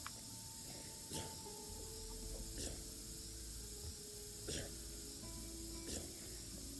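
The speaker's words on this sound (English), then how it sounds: "that's long-lasting camp spray paint you have there" Spray paint hisses in the video game Dead Rising 2: a steady, airy spray over constant game background noise, with a few short, sharper bursts punctuating the stretch.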